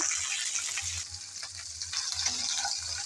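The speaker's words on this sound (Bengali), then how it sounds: "একটু করে কালো জিরা ভেজে তারপর ঢেঁড়সগুলো সব দিয়ে দিলাম।" Okra and nigella seeds sizzle steadily in hot oil in a pan, a continuous bright frying hiss with soft low stirring bumps, close and alone.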